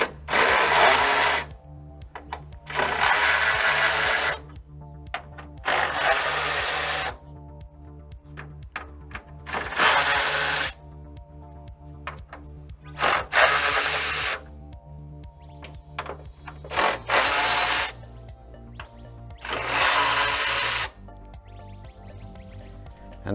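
Power tool whirring in repeated short bursts as 7mm bolts are backed out of the grille on a Ford Econoline van, several loud spins separated by pauses and small clinks, with no talking.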